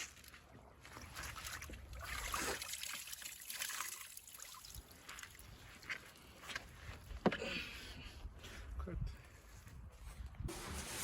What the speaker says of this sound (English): this is cold water from underground